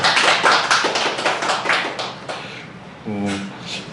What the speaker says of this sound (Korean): 우리 박수로 한번 알려주실까요?